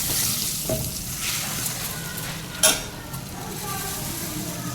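Puffed rice tossed in a hot turmeric tempering makes a steady dry sizzle and rustle, with one sharp scrape of the spoon against the pan partway through.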